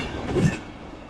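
An express train rolls past a railway platform in Chennai, a brief, loud rumble of wheels and carriages with a swell of clatter midway, close by and with no talk.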